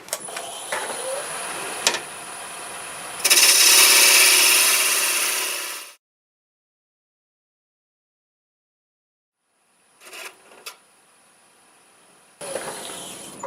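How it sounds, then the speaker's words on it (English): A 1/2 inch bowl gouge cuts a tenon on a wood lathe, giving a loud, steady rushing scrape for a few seconds amid lighter workshop scuffs, then near silence and a few faint knocks. "Switch to my 1/2 inch bowl gouge to put the tenon on."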